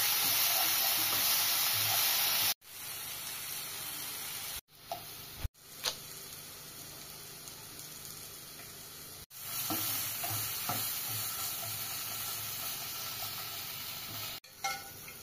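Chicken frying in a pan with chilli, cumin and coriander powder, a steady loud sizzle broken by a few sharp clanks of stirring and brief pauses, with no talk.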